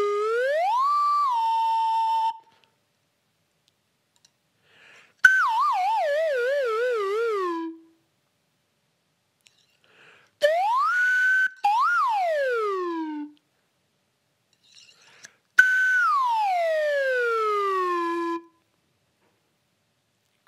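Slide whistle played in four separate phrases with pauses between: a rising-then-level tone, a wavering descending warble, a quick rise and fall, and a long downward glide, each bright and close.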